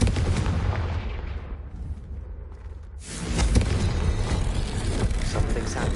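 Confringo blasting spell in Hogwarts Legacy: loud, dense booming blasts fill the opening, dip briefly into a quieter rumble, then another heavy burst of crackling explosive impacts and debris continues to the end.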